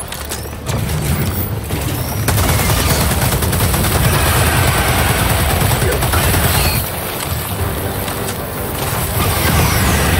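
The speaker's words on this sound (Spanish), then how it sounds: "Yo pedí una artillería." Artillery strike in the Helldivers 2 video game, a sustained roar of rapid explosive bursts and gunfire that rises after the first second and stays loud and dense throughout, with brief dips around the middle and excited voices faintly over it.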